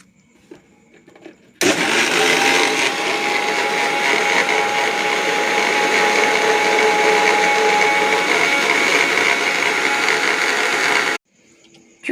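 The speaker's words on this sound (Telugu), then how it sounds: "మిక్సీ పడుతున్నానండి" An electric mixer blends muskmelon, sugar and milk into juice, a loud steady whirring grind that starts abruptly, runs unbroken for about ten seconds, then cuts off sharply.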